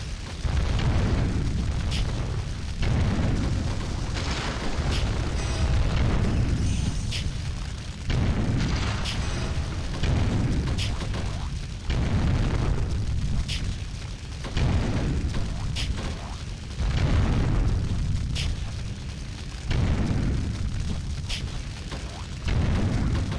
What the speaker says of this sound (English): I have endless fire breath.